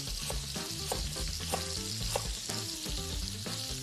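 Sliced lemongrass and thinly cut fresh ginger sizzle steadily in a hot pan, a continuous crackling fry under what sounds like soft background music with rhythmic pulses.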